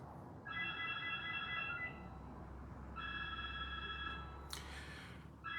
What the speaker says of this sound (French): Le téléphone a commencé à sonner.